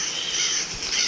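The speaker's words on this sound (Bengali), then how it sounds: "দেখো ওই যেমন মেকাও উড়ে যাচ্ছে" A macaw calls in the Realmcraft video game, with a steady hissing, chirring tone running throughout the short moment at moderate level, no talk over it.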